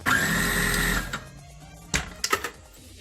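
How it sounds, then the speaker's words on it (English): A food processor whirs loudly for about a second while pulsing herb leaves for tabbouleh, then stops; a few short clunks and rattles follow, close by, with no talk. "We're pulsing the tabbouleh and trying to make sure that it all gets ground up real fine."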